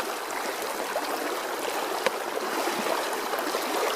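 Rushing stream water flows steadily over slippery rocks as someone wades across a creek in Shenandoah National Park, a continuous close broadband wash with faint trickles and splashes and no voices.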